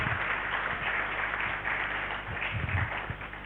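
Steady, dense applause from a seated audience at a stakeholders' dialogue on upcoming district-level elections, clapping for a professor with an even, sustained wash of hands for a few seconds.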